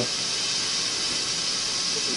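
Steady, even hiss of steam escaping from a Ninja Foodi pressure cooker before it seals, continuous and fairly loud throughout with no pauses or voices.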